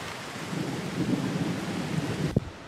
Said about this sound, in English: Unfortunately, it started to really pour down outside